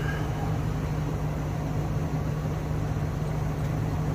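A Greenworks 24V cordless air compressor runs steadily from inside a truck, giving a constant loud motor hum and hiss with no breaks or change in pitch.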